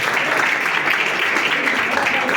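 An audience at a book presentation gives a steady round of applause, dense and continuous hand clapping that fills the whole stretch.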